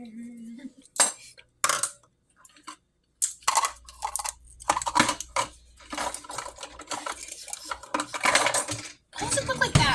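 A jar of natural hazelnut cocoa spread stirred with a utensil, giving loud, close scraping and clinking bursts against the jar with brief pauses between strokes, with people talking nearby.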